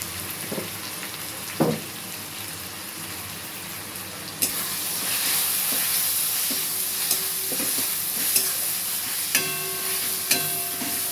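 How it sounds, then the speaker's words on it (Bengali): Ground spice masala with coriander powder frying in oil in a pan, a continuous dense sizzle with occasional clinks and scrapes of stirring, growing slightly louder midway, with no voices. "ভালো করে মশলাটা কষিয়ে নেব। যতক্ষণ না তেল ছাড়ছে ততক্ষণ কষিয়ে নেব।"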